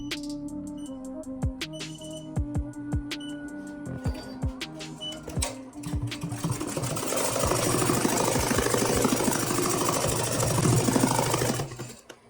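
Multi-needle embroidery machine stitching a fill pattern. It opens with sharp mechanical clicks and knocks as it changes needle, then builds into a fast, steady, close rattling hum that stops near the end.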